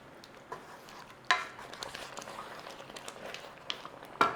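Beef stock being stirred into cottage pie filling in a pot, soft wet scraping and sloshing with a couple of sharper spoon knocks against the pan, fairly quiet and close.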